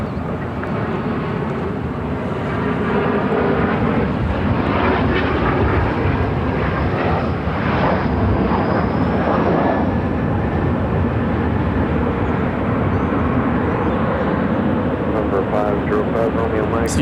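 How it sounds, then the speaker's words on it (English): A United Airlines Boeing 737-800 bound for Denver roars steadily at close range during its takeoff from Phoenix, the loud broadband jet rumble sustained throughout with a faint whine riding on top. "It's United Airlines 489 headed to Denver on a 737-800."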